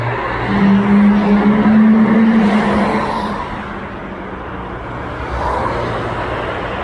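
A Koenigsegg supercar roars past close by, its engine note swelling loud in the first few seconds and then fading as it drives off, with a brief tyre-like squeal in the mix.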